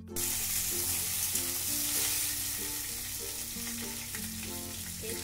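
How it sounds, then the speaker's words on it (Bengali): Potato pieces fry in a pan with a bay leaf and a little whole cumin for a soyabean and potato curry, giving a steady, close, dense sizzle and crackle that runs unbroken throughout with no voices. "দিয়ে আলুটাকে আমি একটু ভাজা করে নেব।"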